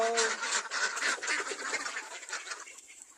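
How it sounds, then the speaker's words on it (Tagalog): Ducks in their pen, about to be herded toward a rice field, quacking and honking loudly and continuously at close range as a dense flock. "dito tayo sa ating kulungan ng itik. Magpapastol po tayo sa ating mga alaga"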